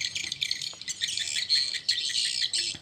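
Swiftlet 'akau' call, a dense, high-pitched chirping and twittering that runs continuously in short bursts, steady and fairly loud with no voices.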